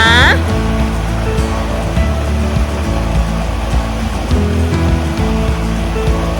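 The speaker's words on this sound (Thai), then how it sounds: "คนดูสิน้ำตกไหลลงมา สวยมากเลยอะช" Pu Kaeng waterfall in Thailand, a nine-tier cascade with clear water, rushes down in a steady, loud, continuous broadband roar that fills the whole clip, with a brief higher chirp at the start.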